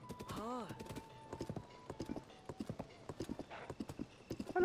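Horse hooves clip-clop in a steady rhythmic trot in the video game Zelda: Tears of the Kingdom, with a horse whinnying near the start and a person talking at times.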